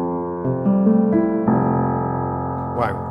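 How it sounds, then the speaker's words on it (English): Felt piano voice on a Yamaha Genos 2 keyboard plays close and clear, with layered chords and held notes that ring out, swelling as new chords enter over a soft sustained bed. "which is the felt piano, which sounds like this"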